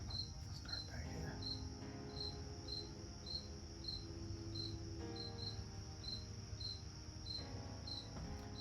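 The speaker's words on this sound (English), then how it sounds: "That cricket over there just singing." Crickets chirp outdoors in steady, evenly spaced trills that repeat throughout, close and clear over a low background hum, with no one talking.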